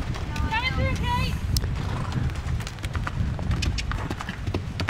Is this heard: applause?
no